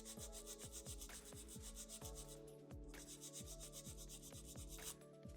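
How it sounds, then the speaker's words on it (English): Steady rhythmic back-and-forth rasping of a file on a fingernail, filing straight out from the nail groove for a stiletto nail shape, close and continuous with regular strokes about every half second, no talking. "File straight out from the nail groove."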